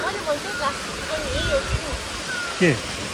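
A river rushes steadily as a broad constant wash of water noise outdoors on a hillside path, with people talking over it.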